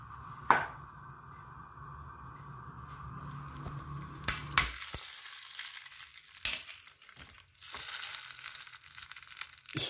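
An egg frying in a pan with a drop of olive oil makes a continuous crackling sizzle. It is punctuated by sharp taps and clatters from the pan, and the spattering grows stronger toward the end.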